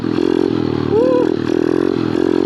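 A pit bike motorcycle engine buzzes at high RPM during wheelie practice, a close, raspy drone that surges briefly louder with a rising whine before settling back.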